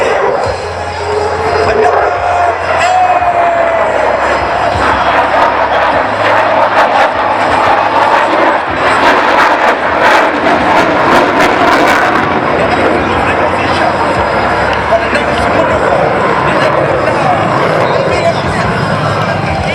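Aircraft performing a display at the Singapore Airshow, a loud continuous engine roar with a swelling pass midway, broad and close, with a commentator talking over it throughout.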